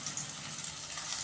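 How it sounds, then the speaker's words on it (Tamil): Onions sautéing in a pan after mustard seeds, a soft continuous hiss and crackle of frying, brief and faint. "ஸோ வெங்காயம் நல்லா பொன்னிறமான கலருக்கு நல்லா வதங்கணும்"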